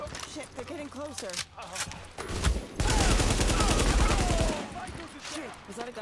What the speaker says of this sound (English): Shit, is that a gunshot? Where'd that come from?